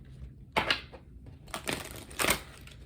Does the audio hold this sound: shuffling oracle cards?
yes